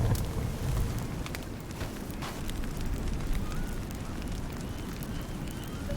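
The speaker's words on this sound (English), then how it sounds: "Oh, reinforced fire." A fire burns in the Sons Of The Forest video game, with a steady, loud crackling roar that stays dense from start to finish.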